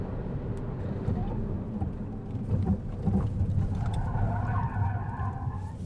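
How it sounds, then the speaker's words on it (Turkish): A Fiat 500e electric car braking hard, tyres skidding and squealing over several seconds with low road rumble, a rising whine near the end, and someone talking over it. "Frenaj."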